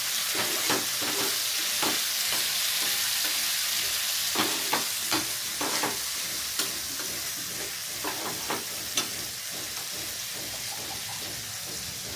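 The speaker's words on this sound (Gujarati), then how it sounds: "મમ્મી બનાવી રહ્યા છે અત્યારે તવા ભાજી" Tava bhaji, mixed vegetables in oil, frying on a small flat griddle: a steady, loud sizzle fills the whole stretch, with frequent scraping and clattering stirring strokes on top.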